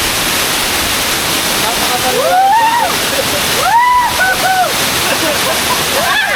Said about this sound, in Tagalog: pupunta na kayo dito ng Arroyo Falls